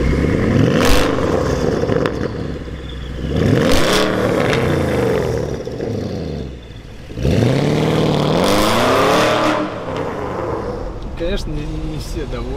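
A tuned 4.8-litre Porsche Panamera Turbo engine and exhaust revs hard through repeated gear changes while driving, each pull rising in pitch then dropping, with a brief lull before another loud acceleration; close and loud.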